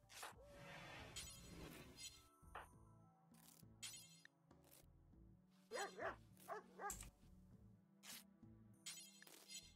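Dog barks in the RimWorld video game, several short sharp yips and barks scattered through a busy stretch of game sound effects, moderately close and clear.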